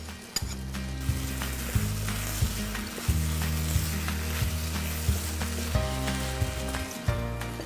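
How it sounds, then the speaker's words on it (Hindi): Chopped porcini mushrooms drop into a pan of risotto, setting off a steady, close sizzle and frying hiss, with occasional stirring scrapes and soft clatters rhythmically breaking through. "ये पोर्चनी मशरूम जो कि हमने चॉप करके रखे थे इसको हम रिज़ोटो में डालते हैं"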